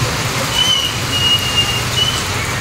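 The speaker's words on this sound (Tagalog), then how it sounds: "Lakas ng ulan, grabe." Heavy rain falls steadily on a rural property in Quezon Province, a loud, dense, unbroken hiss filling the whole short stretch with no pauses.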